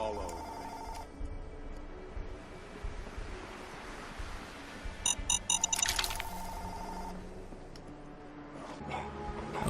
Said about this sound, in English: Okay, and we had a little phone call there.